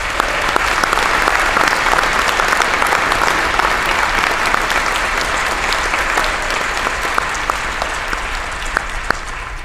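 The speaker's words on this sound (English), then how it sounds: "Give them a big applause" Sustained applause from a large conference audience fills the whole stretch, dense and steady, with a few sharper individual claps standing out and no talk over it.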